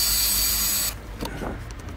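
Angle grinder cutting partly through the ignition switch of a Mercedes 206D, a loud steady high-pitched whine for about a second before stopping abruptly, followed by scattered metallic clicks and scraping handling noises.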